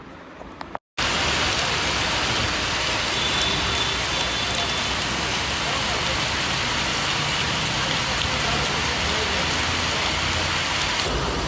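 Heavy rain pours steadily and loudly in a dense, continuous roar, starting after a brief dropout at the beginning.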